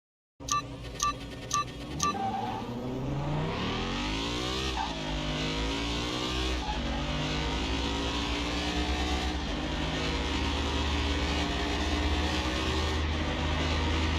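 Car engines racing a Lamborghini in Car Mechanic Simulator 2021: a few countdown beeps, then a loud sustained engine roar rising through gear shifts, steady and close to the end.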